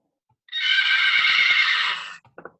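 A horse gives one loud, close whinny lasting well over a second, followed by a few soft snorts or hoof sounds.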